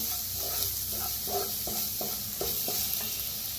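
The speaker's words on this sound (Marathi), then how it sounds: "त्याच्यात टाकूया अर्धा चमचा हळद, भाजून घेऊया" Half a spoon of turmeric is roasted in a pan while being stirred, a steady hiss under a rhythmic series of about eight spatula scrapes, close and moderate in level, no voices.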